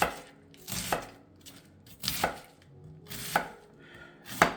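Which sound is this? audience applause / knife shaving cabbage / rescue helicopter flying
knife shaving cabbage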